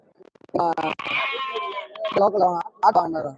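A black sheep ram at a Friday goat market in Ettayapuram gives several wavering bleats, close and loud, mixed with people talking nearby.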